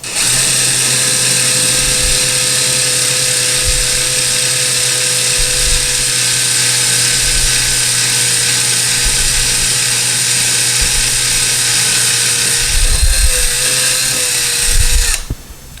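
A power drill bores steadily through wall tile, a loud, close, continuous whine with a constant pitch that runs for about fifteen seconds and ends in a short burst just before stopping, with no talk.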